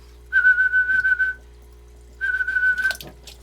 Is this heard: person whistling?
yes